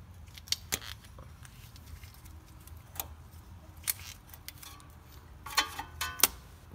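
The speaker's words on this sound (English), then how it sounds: "I'm going to snip it right here." Cutters snip through a car wire just past its connector while working on the brakes of a Cayman S, giving several quiet, sharp close-up clicks spaced unevenly over a low background hum.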